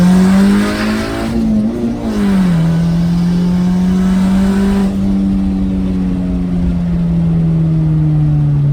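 Turbocharged Honda B18C car engine revving loudly and steadily up close, its pitch climbing, dipping, then holding a sustained drone for nearly nine seconds without any talk.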